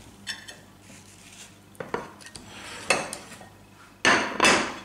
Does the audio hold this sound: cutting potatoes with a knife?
yes